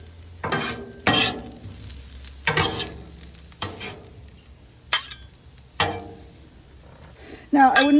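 Celery fries on a Blackstone griddle as a spatula scrapes and stirs it in intermittent close bursts over a low, steady sizzle.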